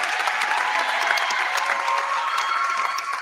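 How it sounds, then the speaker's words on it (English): An audience at a Mineral Ridge school event gives a brief, steady round of applause with some crowd noise, heard at moderate distance. "How about a round of applause for everybody here at Ridge?"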